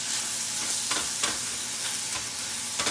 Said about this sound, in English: So you fry your meat until it's no longer pink.